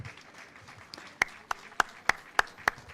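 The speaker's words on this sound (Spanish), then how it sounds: "Un aplauso para Rodrigo." Clapping for Rodrigo at a panel discussion on marginalization and journalism, starting as soft scattered sound and settling into sharp, evenly spaced single claps, close and prominent, with no talking.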